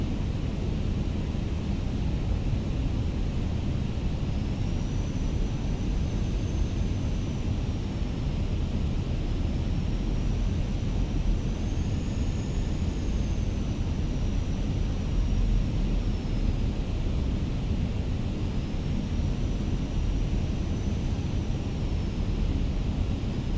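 Fenix A320 airliner landing in Microsoft Flight Simulator, heard as a steady broadband cabin-and-engine roar with faint whining tones drifting in and out, constant and loud throughout with no talking.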